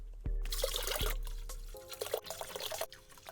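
Distilled water pours and trickles into a six-gallon wine-making container, a steady liquid rush broken by a few short thumps and splashes, fairly quiet with no talk.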